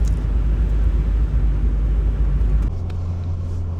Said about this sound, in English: the studs are very loud.